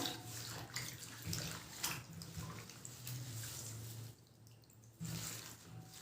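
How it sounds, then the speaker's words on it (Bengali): Leaves are washed by hand in a bowl of water, giving close, soft sloshing and splashing that comes in uneven pulses with a brief quieter gap. There is no speech. "এবার আমি পাতাগুলো ভালো করে ধুয়ে নেব।"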